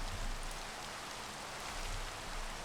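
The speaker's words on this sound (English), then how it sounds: "Hey, look at that, it's raining." Steady, soft rain falling in the game Minecraft on a Skyblock map, a constant faint hiss with low rumble and no voices.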